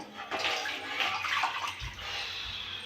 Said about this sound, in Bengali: আর কড়াতে আমি জল দিয়ে দেবো